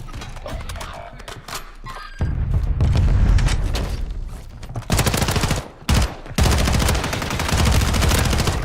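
Loud sustained gunfire in a first-person shooter video game, dense rapid automatic bursts with booms and mechanical clatter, nearly continuous with brief pauses.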